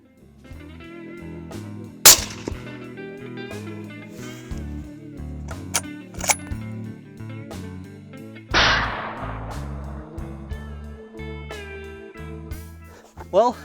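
Suppressed rifle shots ring out while rifles are zeroed at targets on a safari, several sharp cracks spaced seconds apart with one heavier report, under and between spoken talk.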